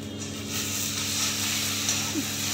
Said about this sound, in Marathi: भेंडी झाकण ठेवून शिजून घेते आहे